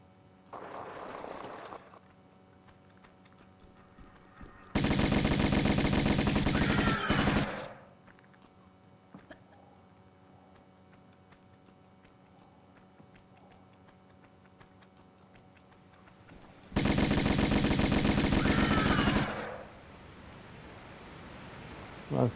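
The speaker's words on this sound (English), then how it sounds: "Now I have a machine gun, but it doesn't mean I can't survive." Machine gun in Tomb Raider Remastered, the 1996 game on PS5. Two long sustained bursts of rapid fire, each lasting a couple of seconds and about ten seconds apart, stand out loudly against a quiet background hum.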